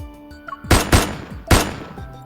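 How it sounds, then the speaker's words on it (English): Gunfire in the video game Death and Rebirth rings out in an empty reception hall: three loud, sharp reports with ringing tails, the first two close together and the third after a pause. "A gunshot explodes into the empty reception hall."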